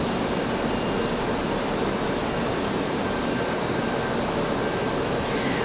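An Alaska Airlines jet departing Raleigh-Durham International Airport, a steady broad jet-engine roar holding at constant loudness throughout, with no voices.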